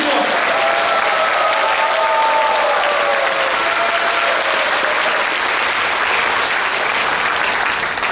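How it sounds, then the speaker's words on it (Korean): Audience at a symphony orchestra concert applauding loudly and continuously, a thick sustained roar of many hands with faint tonal traces from the stage mixed in. "다시 한번 큰 박수 청주원."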